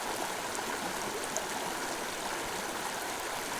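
A tiny mountain creek flows nearby, a continuous, even rushing and burbling of water with no voices.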